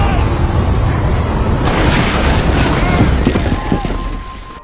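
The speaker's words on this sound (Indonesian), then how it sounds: "Saat mereka memanjat, bom tiba-tiba meledak, membuat lift terlempar ke atas" A bomb detonates in a film scene, a loud, sustained roaring blast with crackling debris that rumbles on for several seconds before slowly fading.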